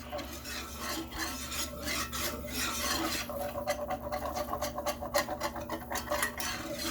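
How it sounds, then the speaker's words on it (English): A spoon scrapes and rasps steadily around a pan of breakfast gravy, a close, continuous stirring sound with brisk, rhythmic strokes and no voices. "So now we're stirring it"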